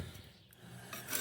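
A margin trowel scrapes built-up junk off the dipstick tube of an OBS 7.3 Powerstroke, a short gritty rasping stroke heard up close and alone.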